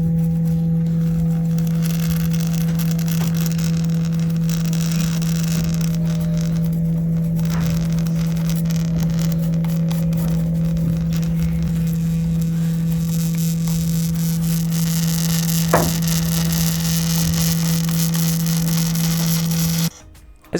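A steady low vibration tone plays from an iPhone ear speaker to clear it, a constant loud hum overlaid with crackling, rattling buzz that continues unbroken for about twenty seconds before cutting off abruptly.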